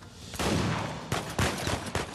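Rapid gunfire bursts in the video game Uncharted 4, a steady loud barrage with several sharp, separate shot bursts standing out near the end, no talking.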